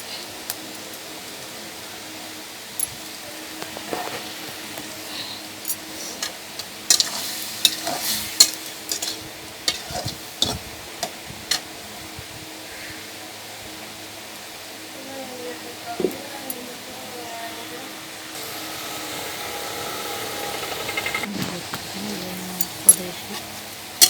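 Mustard masala is sautéed with vegetables, potato and Malabar spinach, in a kadai over a clay stove. A spatula scrapes in scattered bursts over a soft sizzle, with a longer stretch of frying hiss near the end and occasional talk.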